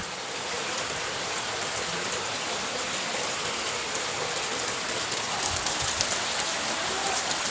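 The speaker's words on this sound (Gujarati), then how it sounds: "જો પાછો વરસાદ ચાલુ થઈ ગયો" Steady monsoon rain falls without pause, a dense, even hiss of drops pattering on surfaces all around.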